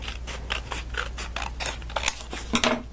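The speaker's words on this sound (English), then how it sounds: "I'm going to trim it just a tiny bit." Scissors snip through a paper craft tag for an embossed background, a quick series of sharp close cuts with short pauses between them, heard alone without talk.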